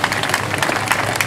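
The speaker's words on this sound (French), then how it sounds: "vous pouvez applaudir" An audience claps steadily at a theatre season launch on Place de la Liberté in Toulon, a dense, even wash of many hands filling the moment without pause.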